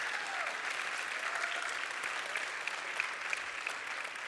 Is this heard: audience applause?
yes